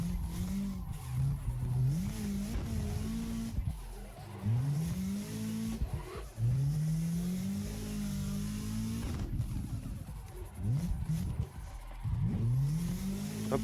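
Car engine in the racing game Assetto Corsa revving hard through a drift with a clutch kick, repeated rising and falling engine pulls over about fourteen seconds, loud and close, with tire squeal between surges.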